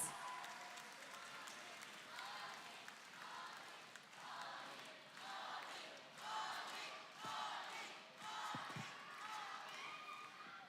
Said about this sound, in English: Everybody, let's give him a big round of applause.